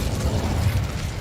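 A fire spell, Incendio, cast in a Hogwarts video game: a dense, roaring burst of flame that stays loud and steady for about a second, with no voices.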